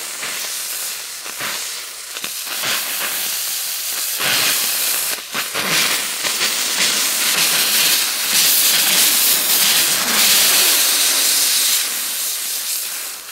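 A VAX steam cleaner with a blocked nozzle and low pressure sprays a loud, continuous rushing hiss close by, with a few brief breaks and sputters early on before it settles into a steady blast.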